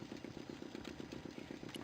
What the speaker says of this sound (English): The engine looked like it was supposed to power the lift.